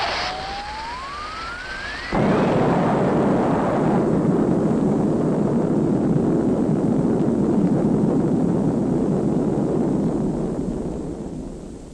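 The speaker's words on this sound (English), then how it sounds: "Looks like there's been some kind of an explosion over in Pelham Woods." An explosion sound effect from a 1957 science-fiction film, set in woods at night: a thin rising whistle gives way to a sudden loud blast that swells into a long, sustained roar before slowly fading.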